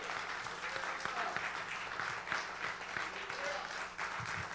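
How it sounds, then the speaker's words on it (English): Dense, steady audience applause for young graduates, with voices talking and cheering over the clapping throughout. "give these young brothers a round of applause."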